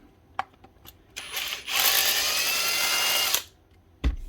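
A power driver whirs for roughly two seconds, backing out socket head screws from the head of a Rawl Plug B1664 gas-powered second fix nail gun. Small clicks and taps come before and after the burst.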